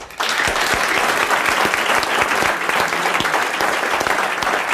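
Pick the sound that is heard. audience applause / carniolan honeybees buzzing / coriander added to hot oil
audience applause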